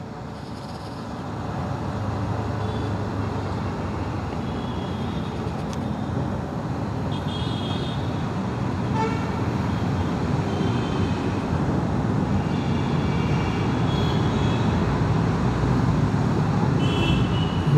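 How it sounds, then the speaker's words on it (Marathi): City road traffic in Pune heard from a Yamaha MT15 motorcycle: a continuous broadband rumble of passing cars and engines that builds gradually in loudness, with faint horns scattered through. "आणि हे ट्रॅफिक आहे पुण्याच्या इथलं."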